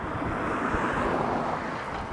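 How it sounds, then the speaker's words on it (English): Steady wind buffets the microphone, a broad rushing roar that stays loud and constant throughout. "It's windy up here."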